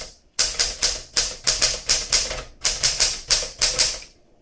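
A 1961 Smith Corona Sterling manual typewriter typing in a steady run of about a dozen sharp, loud mechanical clacks in close succession, with a brief pause partway through and nothing else heard.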